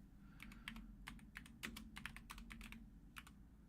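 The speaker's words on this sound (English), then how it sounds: "I was typing Hulk lights." Keys clack on a computer keyboard in irregular bursts of quick taps over a low steady hum, fairly quiet, with no voices heard.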